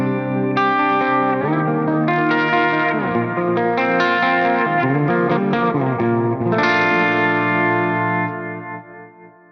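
An electric guitar run through an Axe-Fx III with a sine-wave tremolo effect rings out in sustained, chorused chords that pulse smoothly in volume, loud and alone, then fade at the end.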